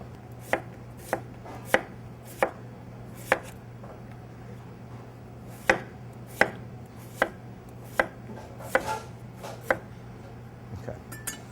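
Yukon potatoes are sliced by hand about an eighth of an inch thick, and the knife strikes the board in sharp, close, evenly spaced chops that come in a steady rhythm with a brief pause partway through, with no voices.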